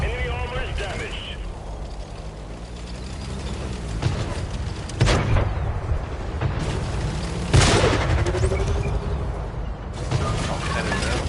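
Tank cannon shots and explosions in the World of Tanks video game: several heavy booming blasts with clanking mechanical noise between them, loud and close, over constant game background sound.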